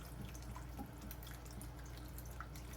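Chanterelle mushrooms being scrubbed in a sink of water give a faint, steady wash of trickling and dripping with soft scrubbing splashes, quiet and close.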